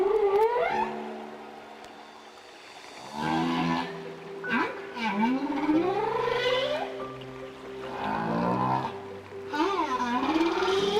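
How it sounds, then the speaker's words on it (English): Whale song recorded underwater off Colombia, a series of rising and falling moaning and whooping calls with long pauses between phrases, clear and moderately loud against quiet water. "This whale species is famous for its songs, lasting many minutes."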